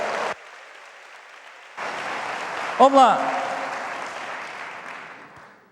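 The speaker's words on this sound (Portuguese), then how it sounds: "aplauda Ele bem forte, diga aleluia" Church congregation applauding during a worship service: a short burst of clapping, a pause, then sustained clapping that swells and slowly fades, with a person speaking and a loud cheer-like vocal rising over it.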